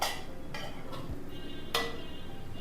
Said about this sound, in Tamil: அடுப்பை ஆஃப் பண்ணிவிட்டு மூடி வச்சிடலாம்.